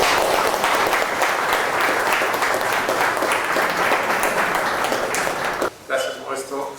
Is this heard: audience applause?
yes